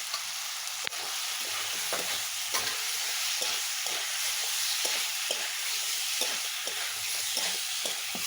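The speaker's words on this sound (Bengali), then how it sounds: "আলু কচুর গেরো কষা হয়ে গেছে" Potatoes and taro corms are being sautéed in a pan, a continuous crackling sizzle broken by regular scraping strokes of a spatula, roughly one every half second, near and fairly loud.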